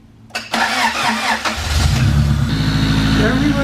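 A rebuilt Honda LS-VTEC engine cranks briefly, then catches and settles into a loud, steady idle close by, with voices talking over the start.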